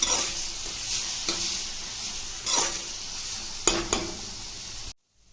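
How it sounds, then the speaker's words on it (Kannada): Ginger garlic paste sizzles steadily in a hot pan while a spoon scrapes and stirs through it, leaving a few sharper clinks and knocks against the metal. The sizzle cuts off abruptly near the end, with no voices present. "ಈಗ ಸ್ವಲ್ಪ ಶುಂಠಿ ಬೆಳ್ಳುಳ್ಳಿ ಪೇಸ್ಟ್ ಹಾಕೊಳ್ಳೋಣ. ಇದು ಕೂಡ ಚೆನ್ನಾಗಿ ಫ್ರೈ ಮಾಡ್ಕೊಳ್ಳಿ"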